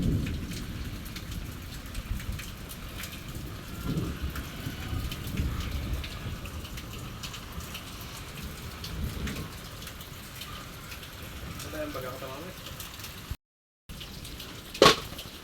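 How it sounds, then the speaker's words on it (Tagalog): Steady rain pattering on a surface throughout, with low rumbling thunder underneath and no one speaking. "malakas po ang kulog."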